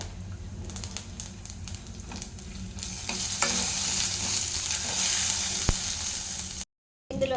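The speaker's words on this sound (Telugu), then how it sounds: "రెండు ఎండిన మిరపకాయలు వేస్తున్నాను అలాగే పోపు దినుసులు వేస్తున్నాను అంటే కొంచెం శనగపప్పు మినప్పప్పు జీలకర్ర ఆవాలు ఇవన్నీ కూడా వేసుకొని ఫ్రై చేసేసుకోవాలి" Dry red chillies frying in a pan with tempering spices: chana dal, urad dal, cumin and mustard seeds. The oil sizzles steadily up close while the spices are stirred, with scraping and small pops, for about seven seconds before it drops out.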